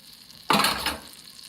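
A tablespoon of butter hits a warm Instant Pot set to saute, giving a sudden burst of sizzling that swells for about half a second, then fades to a softer crackle as it melts.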